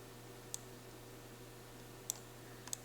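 Three faint, sharp mouse clicks, spaced irregularly, stand out against a quiet low hum while working in 3D editing software.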